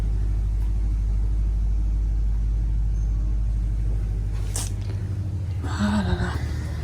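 Camrail passenger train rolling along in Cameroon, a loud steady low rumble with rhythmic clatter that thins out midway, followed by a brief rattling hiss and some clanking near the end.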